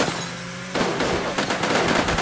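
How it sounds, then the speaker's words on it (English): Gunfire from the video game Sub Rosa, a loud rapid string of sharp shots after a brief quieter lead-in, the reports coming in quick irregular succession with no voices. "Someone was just shooting at me."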